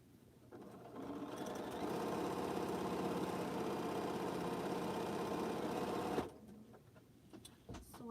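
A sewing machine stitching quilt blocks, running in one steady mechanical whir for about five seconds before stopping, with faint handling sounds before and after.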